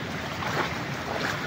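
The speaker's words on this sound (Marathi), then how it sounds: "हा खळखळ वाहतोय गावचा ओढा" A village stream in the Konkan countryside after rain, rushing and babbling as a steady broadband wash of water, with some wind noise.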